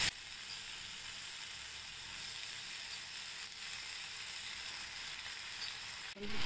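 Mixed sprouted legumes hit hot oil in a pan, setting off a loud, steady sizzle of frying that runs without a break, then thins briefly near the end.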